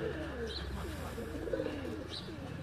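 Sialkoti pigeons of the Bateri breed coo on a rooftop in Karol, Sialkot, with soft repeated low coos over steady background noise, fairly faint.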